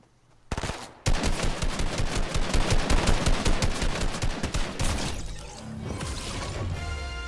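Rapid bursts of automatic gunfire from a Fortnite solo match, a dense rattling volley lasting several seconds that ends in a crash, loud and close with no talk.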